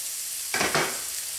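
Onions and garlic cooking in oil give a brief burst of sizzle and stirring, two quick close pulses over a faint background hiss.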